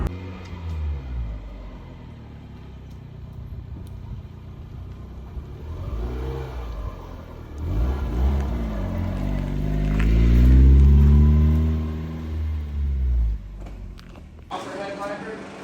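Dodge Viper with a Copperhead engine revving at a car show, a deep rumbling idle swelling into a couple of loud rising revs midway, with people talking and footsteps nearby.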